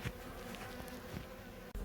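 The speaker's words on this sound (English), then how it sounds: "bees building on the new hive and obviously coming into the new cavity" Bees swarming into a new hive built in a caravan cavity make a faint, steady buzzing hum close by, with no voices.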